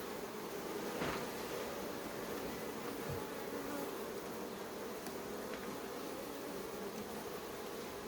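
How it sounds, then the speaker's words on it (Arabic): Honeybees buzzing steadily during a frame-by-frame inspection of a ten-frame hive, a dense continuous hum close by with faint rustles and no voices. "طبعا بدأ النحل يحاصر الملكة بالعسل"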